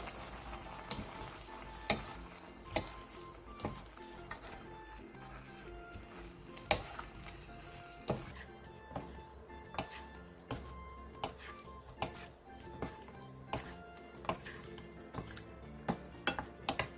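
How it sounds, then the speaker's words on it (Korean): Doenjang, perilla seed powder, minced garlic and onion are stir-fried in a pan, with a soft steady sizzle under regular sharp clicks of a utensil scraping and tapping the pan, fairly quiet throughout. "된장 3분의 1스푼, 들깨가루 2스푼, 다진 마늘 반스푼, 양파를 넣고 약 2-3분 정도 볶아주세요."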